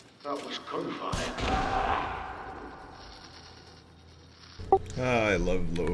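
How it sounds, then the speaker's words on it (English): A burst of gunfire and a booming explosion in the game Elite Dangerous ring out, decaying into a rumble, followed by voices talking over the end. "That was gunfire."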